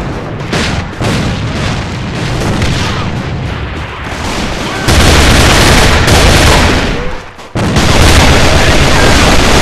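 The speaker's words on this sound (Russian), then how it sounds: "Бросаю гранату!" Grenade blasts and gunfire in the online shooter A.V.A, dense booming bursts and rattling shots filling the mix, with a brief dip before the heavy explosions resume.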